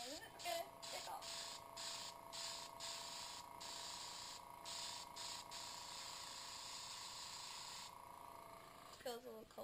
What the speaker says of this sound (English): I have my trusty airbrush